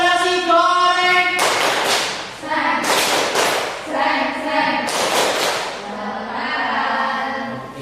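A school class performs the 'tepuk nasi goreng' clapping routine: bursts of group clapping land in a rhythmic pattern between stretches of children chanting in unison, close and lively.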